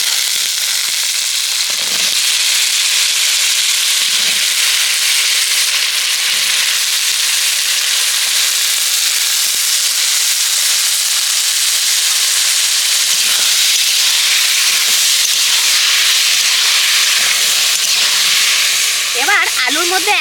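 Potatoes drop into frying onion and tomato, and a loud, dense sizzle carries on without letting up. It stays close and steady throughout, with a few faint clicks toward the end.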